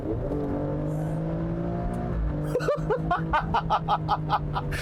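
A 2019 Alfa Romeo Stelvio QV drones at a steady engine note, then its exhaust barks and fires a rapid series of loud, rhythmic pops and crackles close by, with a faint chuckle mixed in.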